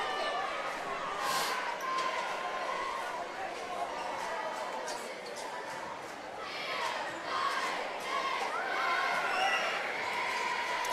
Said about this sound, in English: Crowd starting to get a little rowdy, particularly on in the student sections